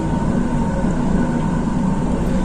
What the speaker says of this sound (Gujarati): મેટ્રો તો કેટલી ફટાફટ ચાલે.